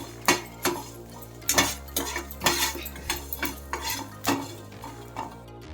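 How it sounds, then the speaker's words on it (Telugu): Spoon scraping and clinking against a hot pan as whole spices are stirred and dry-roasted on a switched-off stove, a run of close, irregular metallic taps and scrapes with no talking. "ప్యాన్ వేడికే ఇవన్నీ వేగిపోతాయి."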